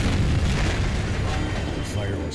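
Explosions in the video game Max Payne 3 rumble as a loud, continuous low boom that fills the whole stretch and slowly fades, with a voice speaking faintly underneath.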